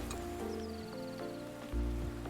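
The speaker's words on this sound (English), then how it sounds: "Okay, so I can't do these two because it's raining." Rain falling in the PC game Hundred Days Winemaking Simulator, a steady patter under tonal game music with a brief rising chime, moderately loud and with no talk.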